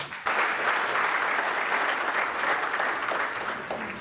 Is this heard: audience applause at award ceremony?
yes